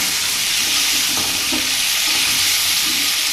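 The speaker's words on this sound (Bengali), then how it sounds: "এবার এটাকে একটু নেড়ে চেড়ে ভেজে নেব।" Salted vegetables for khichuri are stir-fried in a pan, giving a loud, continuous sizzle with light scraping and stirring knocks heard close up.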